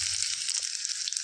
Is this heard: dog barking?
no